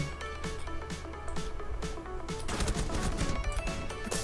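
Scattered gunshots and short bursts of fire ring out in a Rainbow Six Siege beta match, fairly close and growing denser toward the end, layered over steady tonal game sounds.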